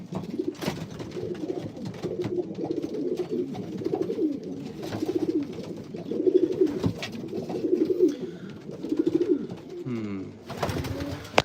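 Pigeons coo softly in a pigeon loft, repeated low rolling calls overlapping in a steady murmur, with faint muffled talk in the background and a few brief knocks near the end.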